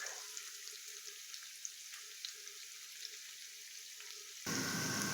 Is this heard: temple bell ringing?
no